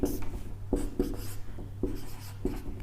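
Chalk or marker strokes on a board during a Hindi lesson, a few distinct scratchy writing bursts at an even pace, close and fairly quiet, with no talking.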